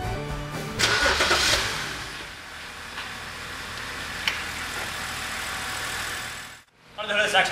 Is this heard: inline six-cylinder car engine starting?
yes